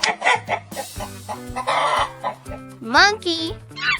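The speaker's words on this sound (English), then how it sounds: "Chicken." A chicken clucks in quick bursts over bright, bouncy children's nursery music, the farmyard calls sitting close and clear among the melody.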